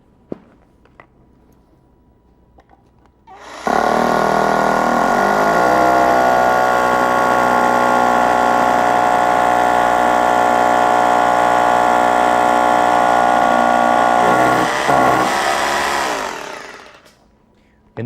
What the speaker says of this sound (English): You notice how fast that drilled in.